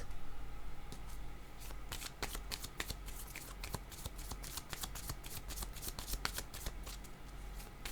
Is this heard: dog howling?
no